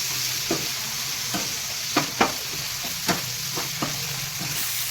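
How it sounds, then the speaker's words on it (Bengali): Chopped tomato, green chilli and capsicum fry in a pan under a continuous soft sizzle, with a series of sharp spatula taps against the pan spaced irregularly throughout. "এই টমেটো কুচি কাঁচা লঙ্কা কুচি আর এই ক্যাপসিকাম দিয়ে দিলাম এগুলো একটু লাল লাল করে ভাজার করে"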